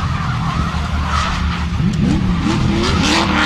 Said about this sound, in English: now this hot-rodded S13 with the LS1